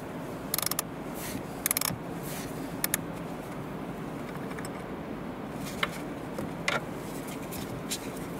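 A power driver works on a bolt hidden behind a small trim piece in a Volvo XC40 dashboard, giving a steady mechanical whir with several sharp ratcheting clicks scattered through it, close and fairly quiet.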